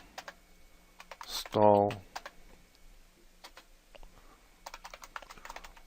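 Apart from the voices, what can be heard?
typing a terminal command on a computer keyboard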